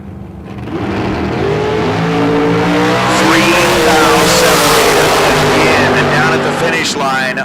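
Drag race cars launching and accelerating hard down the strip, a loud sustained roar with rising engine tones and tire screech that builds and holds close by, with an announcer talking throughout.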